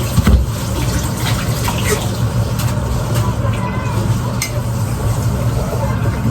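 Tap water runs steadily into a sink while a squash is washed under it, a constant close splashing rush with a few faint knocks over the top for the whole stretch.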